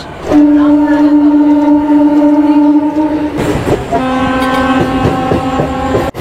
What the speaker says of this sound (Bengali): ওইদিকে প্ল্যাটফর্মে ঢুকছে অরেঞ্জ কালারের নিউ বন্দে ভারত এক্সপ্রেস।